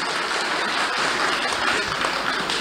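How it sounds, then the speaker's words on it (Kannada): Applause from the audience at a Yakshagana troupe gathering rolls on as a dense, continuous clatter of many clapping hands throughout. "ಅದಕ್ಕೆ ನಿಮ್ಮ ಒಪ್ಪಿಗೆ ಇದ್ದರೆ ಎಲ್ಲರೂ ಚಪ್ಪಾಳೆ ಹೊಡೀರಿ ಖಂಡಿತ"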